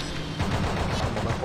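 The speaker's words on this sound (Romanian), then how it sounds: "Oh, minigun! Au minigun, yes!" Rapid minigun fire in the video game Booster Troopers, a dense continuous burst of shots rattling under game noise throughout.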